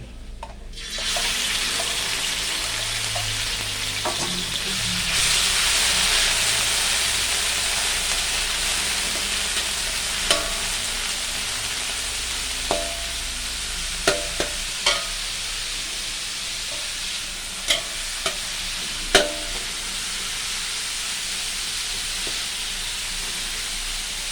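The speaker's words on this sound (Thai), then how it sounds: "แล้วยายก็จะใส่หมูลงไป" Pork stir-frying with garlic in a hot pan makes a continuous loud sizzle with occasional clinks and scrapes of a utensil, heard close with no speech.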